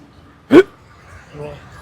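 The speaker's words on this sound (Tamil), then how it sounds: "எனக்கு விக்கல் எடுக்குது" A single sharp, loud hiccup from a person close up, followed a moment later by a softer voiced sound.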